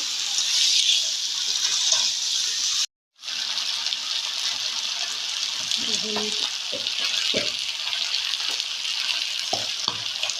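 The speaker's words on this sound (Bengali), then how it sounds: "এবার মাংসগুলি ভালো করে কষিয়ে নেওয়া হচ্ছে" Country chicken meat sautéed with spices in a pan, a loud, close, continuous sizzle that stops for a moment and resumes, with scattered clinks and scrapes of stirring and no talking.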